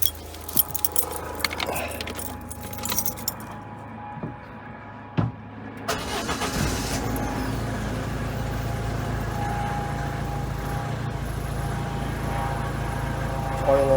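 Peugeot Expert 1.6 HDi diesel van, keys jangling and clicking before the engine cranks and starts, then settles into a steady, rumbling diesel idle close by with no talking.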